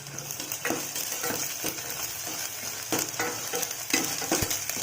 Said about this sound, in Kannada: 1ರಿಂದ 2 ನಿಮಿಷ ಸ್ವಲ್ಪ ಫ್ರೈ ಮಾಡಿಕೊಳ್ಳಿ.